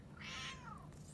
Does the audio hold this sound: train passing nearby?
no